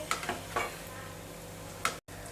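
Coriander leaf pakoras frying in hot oil, a steady sizzle with a few soft stirring scrapes and clinks near the start and one more near the end, with no talking.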